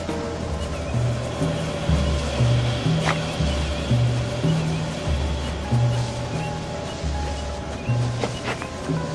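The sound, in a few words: waterfall in the video game Shelter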